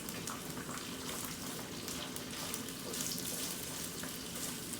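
Onion frying in a pan for a pork and spinach curry, a steady dense hiss and crackle of sizzling oil, close and continuous with no talking.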